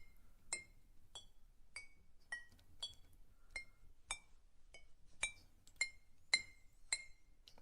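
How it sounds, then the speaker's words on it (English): A teaspoon taps softly against a glass again and again, about a dozen light, bright clinks at an uneven pace in an otherwise quiet room. "A teaspoon softly tapping on the glass again and again."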